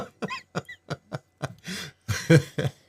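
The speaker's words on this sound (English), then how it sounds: "And cough." A string of short, sharp coughs close by, about nine quick bursts in a row with brief gaps, growing a little harsher toward the end.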